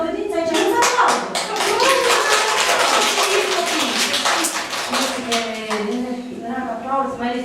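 A group of kindergarten children clapping together in class, a dense, loud, continuous round of applause that runs throughout, with children's voices mixed in.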